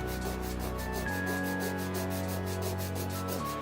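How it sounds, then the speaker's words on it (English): Emery board filing an acrylic nail at a 45-degree angle, steady rhythmic back-and-forth rasping strokes, close and continuous, alone without any talking. "Holding the emery board at the 45 to the nail and filing out."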